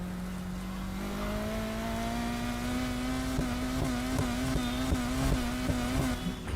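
In Need for Speed Heat, a car engine revs hard in third gear on an off-road route, a loud, steady drone whose pitch climbs smoothly and then wavers, with no voice over it.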